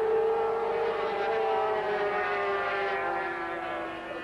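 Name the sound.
500cc Grand Prix motorcycle engines racing at Silverstone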